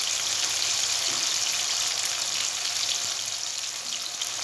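Tomatoes frying in a pan give a steady, close sizzle, a dense hiss that holds level throughout with no talking.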